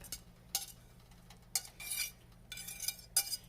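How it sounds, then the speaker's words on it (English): Creamy shrimp pasta sauce being stirred in a pan as it thickens, with soft intermittent clinks and scrapes of a utensil against the pan in short bursts, close and fairly quiet, with no talk. "I will stir it while it continues to cook until thickened"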